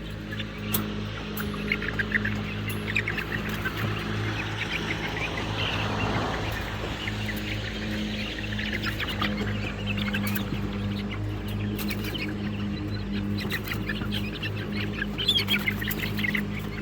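Ducks and chickens being moved toward a coop quack and call intermittently, several birds at once over a steady outdoor background, with one louder passing swell midway.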